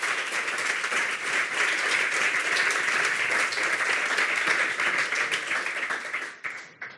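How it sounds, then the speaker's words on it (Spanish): A live audience at a cancer association talk event applauds steadily for about six seconds, dense continuous clapping that fades out at the end. "os pido un pequeño aplauso para empezar"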